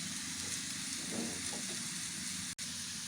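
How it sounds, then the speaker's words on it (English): Carrots frying in a pan give a steady close sizzle, with a few soft scrapes from a wooden spoon stirring them and a brief dropout near the end. "Stir them with a wooden spoon. As you can see, our carrot."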